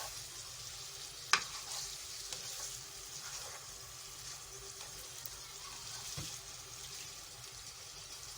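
Meat frying with garlic and ginger in a pot for Sindhi biryani, a steady soft sizzle with occasional stirring scrapes and clinks, quiet and close, with no talking.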